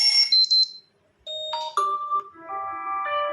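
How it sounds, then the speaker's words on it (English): An alarm ringtone on a Xiaomi 11i 5G phone plays bright electronic chimes and tones, with a pause, then a series of stepped melodic beeps, clear and close. "So which alarm ringtone guys you want to set your Xiaomi phone guys"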